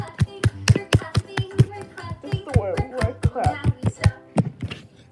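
A child and an adult clap hands along to a Miss Rachel routine, giving about fifteen sharp, evenly paced claps close to the mic. A voice chatters over the rhythm.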